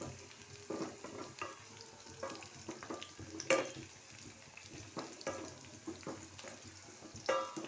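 Onion and three red chillies frying in a tempering for a brinjal curry, a soft continuous sizzle with intermittent stirring scrapes and light clinks, close but fairly quiet.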